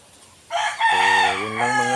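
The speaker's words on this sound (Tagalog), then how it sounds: "Tapos yung tilaok niya napakabata pa." A young wild junglefowl rooster crows once, loud and close, its voice thin and slightly cracking as the call rises and trails off.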